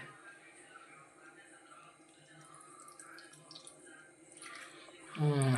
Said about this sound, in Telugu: ఇప్పుడు మనం లెమన్ వాటర్ వేసుకోవాలి